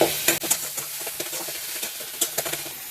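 Ground spice paste for a sweet and sour black chickpea curry sizzles loudly in a hot pan while a spoon repeatedly scrapes and stirs it, with sharp bursts of crackling over a steady fry.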